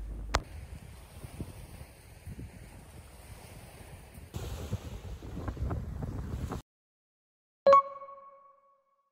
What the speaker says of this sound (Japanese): 波の音と風を感じて過ごす時間がめっちゃいいんですよね